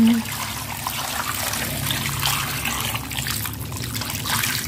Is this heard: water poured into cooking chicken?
yes